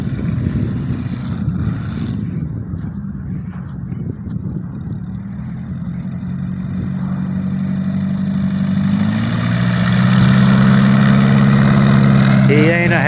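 A Zenith light aircraft engine runs and misfires, a steady rumbling drone that rises in pitch and loudness as it revs up, close by and continuous.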